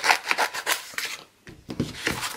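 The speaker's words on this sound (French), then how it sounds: "un petit ciseau pour découper votre motif" Small scissors snip out a paper transfer motif in quick, close, dry rasping cuts, a rapid series of crisp scratchy strokes with a brief pause midway before cutting resumes.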